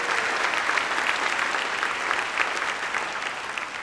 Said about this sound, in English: Let's once again give our sponsors, Merritt College and the Freedom Center, and our young people a round of applause.